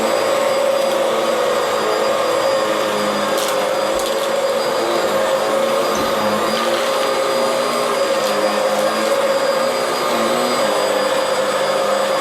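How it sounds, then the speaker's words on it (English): A Bissell Powerglide Pet vacuum cleaner sucks up dirt with a loud, steady, continuous roar and whine that holds throughout with no talking. "You can hear it sucking everything up."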